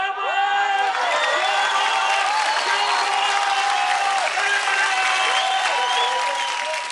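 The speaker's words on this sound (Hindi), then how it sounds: "एक बार फिर से तालियां पॉल और उर्वशी के लिए" An audience on the dance show Dance India Dance Season 3 claps loudly and continuously, with whistles and cheers threaded through the steady applause.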